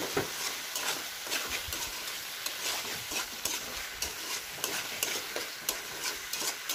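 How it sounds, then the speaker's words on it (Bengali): Curry being sautéed in a pan, with a continuous close sizzle and frequent rhythmic spatula scrapes and taps against the pan, fairly loud and steady, no voices. "2 থেকে 3 মিনিটের মতো আমরা এইভাবে এটাকে কষাবো"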